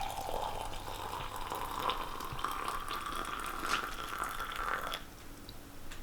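Boiling water poured into the base of a stovetop moka pot, a steady mid-pitched trickling stream lasting several seconds, close and fairly quiet, then tapering off.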